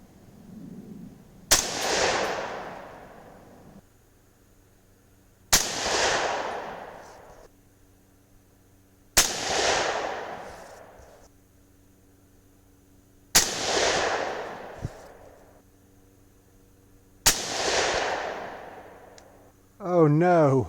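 Five evenly spaced .308 Win rifle shots fired with 165gr Hornady GMX bullets over an AR-Comp powder load, each a sharp loud crack trailing into a long echoing decay, about four seconds apart.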